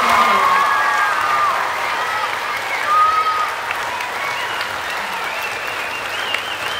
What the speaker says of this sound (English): just can we give a round of applause